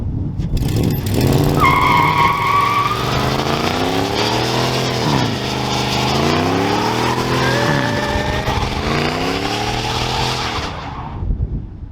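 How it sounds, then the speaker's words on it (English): A Dodge Dakota with a swapped engine roars through a loud, sustained burnout, its engine revving up and down while a high tire squeal from one wheel cuts in early and fades under the engine. "that one wheel squeal"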